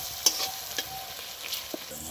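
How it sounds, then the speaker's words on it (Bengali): Masala of chilli powder, coriander powder and turmeric fries with a steady close sizzle, broken by a few sharp scrapes and knocks of stirring. "মশলাটা ভালো করে কষে নেব।"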